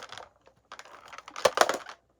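A short run of dry plastic clicks from a toy figure's ratchet joint, sparse at first then a denser, louder burst of rapid ratcheting near the end, heard close up with no talking.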